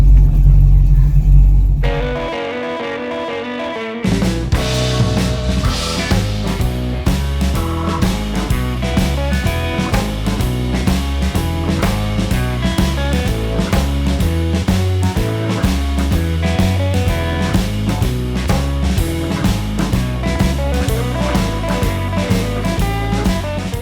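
A Ford Mustang engine runs with a loud, deep rumble that keeps going for over twenty seconds. A music-like harmonic pattern runs throughout, and a short quieter lead-in comes before the steady engine sound takes over.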